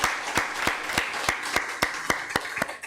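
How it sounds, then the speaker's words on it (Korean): A small church congregation claps during a Sunday worship service, with sparse, separate hand claps landing at an irregular, roughly steady pace, moderately loud in the room. "우리 박수로 한번 격려해 주시면 좋겠습니다"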